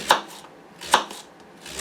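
A knife slices a leek into thin slices on a cutting board, giving three crisp, close chops at a slow, even pace with quiet pauses between them.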